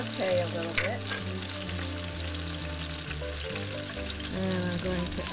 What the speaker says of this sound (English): So we're just going to let this saute a little bit.